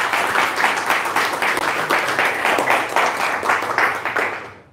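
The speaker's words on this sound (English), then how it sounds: "Another round of applause, sure, why not?" Whisky tasting audience applauding after a sherry cask finish is presented, a steady round of close clapping with a pulsing rhythm that cuts off abruptly.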